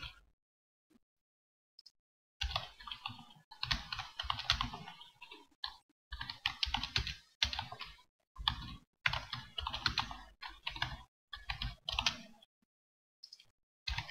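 Typing HTML code on a computer keyboard, a steady run of close, dry key clicks in irregular bursts with short pauses, starting after a brief silence and continuing throughout.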